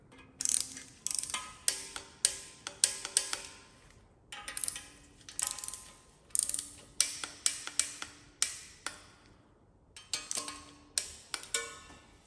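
Torque wrench tightening sump bolts to 5 foot-pounds during a Killer B Super G sump installation, bursts of rapid ratcheting clicks in quick runs with brief pauses between, close and crisp with no talk.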